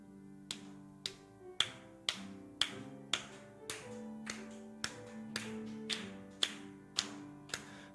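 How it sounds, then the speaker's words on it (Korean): Sharp, evenly spaced claps, about two per second, ring out over a sustained keyboard accompaniment as a church congregation begins clapping along to a hymn, with a faint room echo. "다 같이 한번 박수 치면서 찬송합니다."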